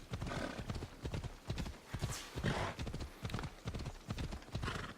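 Horse hooves clip-clop in a quick, steady galloping rhythm across open ground in Assassin's Creed Odyssey, loud and close, with a brief whinny partway through and no talk.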